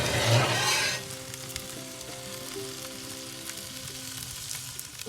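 Food deep fries inside a wood-fired oven: a loud crackling burst at the start settles into a steady, soft sizzle and bubbling that carries on alone throughout.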